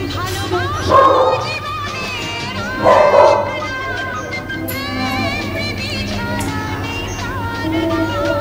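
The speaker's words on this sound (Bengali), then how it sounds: "বাইরের কুকুরের আওয়াজের শুনে তোমরা শুনতে পাচ্ছ।" Dogs bark repeatedly in the distance outside, a string of yaps and howls, while a person talks nearby.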